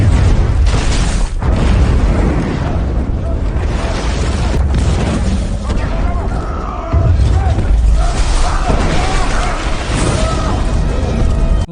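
Bomb explosion in a mafia action film, heavy booming blasts and crashing debris rumbling loudly throughout, with a second deep surge of impact partway through.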